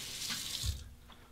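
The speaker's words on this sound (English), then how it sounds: "I'll temper it under the hot water." Hot water runs from a tap, making a steady, fairly soft splashing hiss with a brief thud partway through as something passes under the stream.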